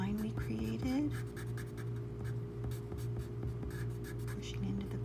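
Colored pencil shading on paper with firm pressure, a steady scratchy scrape of pencil strokes running close and continuous under a constant low hum.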